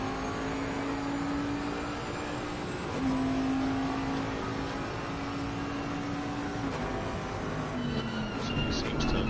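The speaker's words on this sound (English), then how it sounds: "Bentley does have a good sound." Bentley race car in a racing video game at Snetterton circuit, its engine droning with rising and falling pitch through gear changes, heard steadily at moderate level under background noise.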